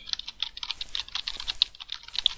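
Steady, fairly quiet keystrokes clatter on a backlit gaming computer keyboard, a run of light, even-paced clicks close by with no voices.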